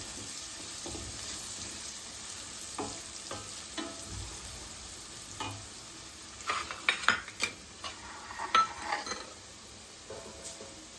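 Garlic and turmeric frying in a pan for carrot curry, a steady low sizzle under intermittent spoon scrapes and clinks against the pan, louder stirring bursts toward the middle and end.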